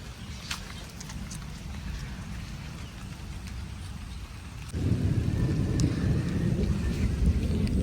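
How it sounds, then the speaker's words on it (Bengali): Rain begins falling over a village with a pond, a soft steady patter that suddenly swells into a heavier, louder downpour partway through, with low rumbling beneath and no talk. "সবে মাত্র বৃষ্টি আসতেছে আর এই যে পুকুরে পানি জমতেছে"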